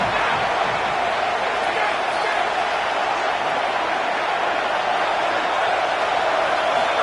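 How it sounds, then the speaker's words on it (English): Home stadium crowd at a football game roars as the defense tries to get off the field on third down, a dense, steady wall of cheering and noise that holds loud and unbroken throughout. "Here comes this home crowd as the defense tries to get off the field on 3rd down."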